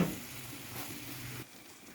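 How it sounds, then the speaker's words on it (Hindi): Spiced chicken with cumin and white pepper sizzles in a karahi for an Afghani karahi: a soft, steady frying hiss that drops away abruptly near the end. "अब हम इसको अच्छी तरह भूनेंगे।"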